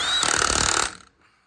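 A Hercules 1/2 inch impact wrench rated at 500 ft-lbs hammers loudly and close for under a second, a rapid rattling burst that then winds down and stops.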